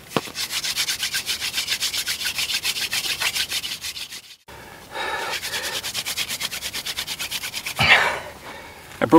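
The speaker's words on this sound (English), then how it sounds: "The next thing I'm going to do is prepare some of this juniper bark so that I can have a nest for the coal." Juniper bark being rubbed and worked by hand into a fire nest in the Utah desert, rapid rhythmic scratchy strokes in two bursts separated by a brief pause, close and fairly loud, with no talk.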